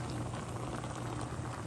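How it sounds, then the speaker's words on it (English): Dumplings boil in a pot for a Jamaican cabbage dinner, a soft steady bubbling and hiss at low volume with no voices over it. "we have our dumplings over here boiling"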